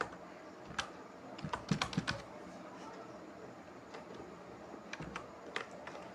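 Rapid keystrokes on a computer keyboard while code is typed, with bursts of clacking clustered around the early seconds and scattered taps later, close and moderately quiet with no talking.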